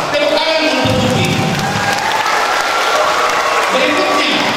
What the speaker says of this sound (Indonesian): Tepuk tangan untuk Gupi.